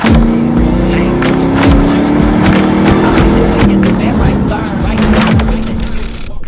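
A 2003 Ford Mustang GT Centennial Edition with a 4.6 engine and five-speed manual pulls away on a test drive, loud engine drone rising in pitch with gear changes, plus heavy road and wind noise close up throughout.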